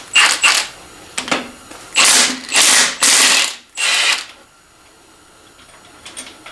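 A ratchet loosening 11/16 cylinder head bolts on a 1987-93 Mustang 5.0 engine, giving loud, close rapid clicking bursts in several separate pulls with short gaps between, then quieter faint clicks near the end.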